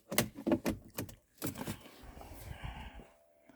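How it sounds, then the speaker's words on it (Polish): A car key slides into an ignition lock with a few quick metallic clicks and jangles, followed by quieter scraping and handling noises, close and faint. "Wkładamy kluczyk."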